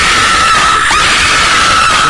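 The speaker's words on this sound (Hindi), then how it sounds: "कोठरी के भीतर की चीखें पूरी रात घर को हिलाती रहती हैं।" Shrill, sustained screaming rings out from inside a closet in a horror cartoon, loud and continuous over a rough noisy background, with a brief warble partway through.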